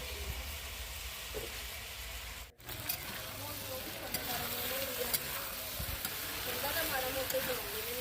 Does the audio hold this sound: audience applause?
no